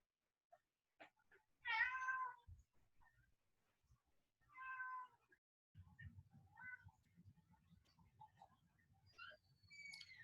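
A domestic cat meows a few times, clear separate calls spaced a couple of seconds apart, close and indoors, with faint low shuffling noise between the cries.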